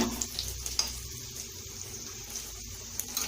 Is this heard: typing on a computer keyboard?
no